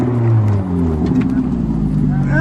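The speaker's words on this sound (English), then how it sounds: "The customer's doing a just little flyby through the car park." A Ferrari F430 with a modified exhaust drives past in a car park, its engine a loud close rumble whose pitch drops as it goes by, with voices talking over it.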